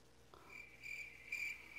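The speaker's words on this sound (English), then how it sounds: "Crickets." Faint, high-pitched chirps repeating in short bursts over a quiet background, like crickets at night.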